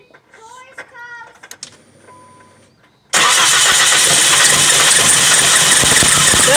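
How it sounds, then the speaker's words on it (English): A 2003 Nissan Sentra with a cylinder 2 misfire has its engine started abruptly after quiet voices, then runs on as a loud, close, steady engine noise. "She's gonna turn on the car and we should see some sparks through there."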